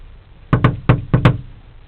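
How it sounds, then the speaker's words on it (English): Five loud, close knocks in two quick groups sound on a locked house door during a 2009 ice storm in Paducah, Kentucky, followed by quiet. "Knock a little louder and wait a second."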